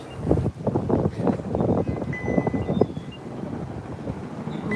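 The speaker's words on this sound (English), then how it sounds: "it's way too windy to stay here" Strong wind blasts across a hilltop microphone in Mount Vernon, Baltimore, producing loud, continuous buffeting rumbles in uneven gusts, with no voices heard.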